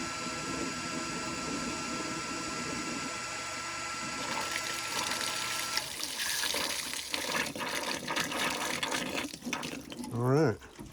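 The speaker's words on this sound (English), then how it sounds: "you'll see water shoot out of that where that black piece is hanging on the end of that hose" Water rushes steadily from a hose into a tank at an off-grid Alaska cabin, a constant broad wash that grows rougher and louder midway, with a short voice near the end.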